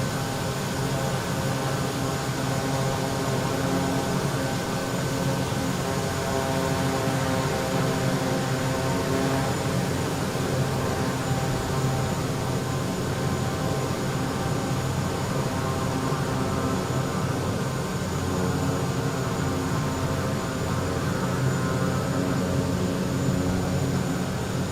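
Jet airliner engines in Microsoft Flight Simulator, a heavy aircraft taxiing toward runway 02 at Ranong, give a steady, loud, broadband roar with a constant droning hum that holds evenly throughout.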